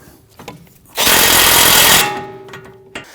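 A power tool snugs down the outer tie rod nut on a 2009-2017 Volvo XC60, a single loud, rapid hammering burst lasting about a second before dropping away to a few faint clicks.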